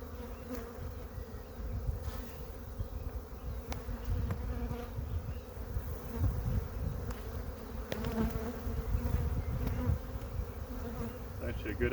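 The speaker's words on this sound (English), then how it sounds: "Actually a good amount of bees in there." Honey bees hum and buzz inside an open hive during an inspection, a dense steady drone at close range with brief louder passes of individual bees and no talking.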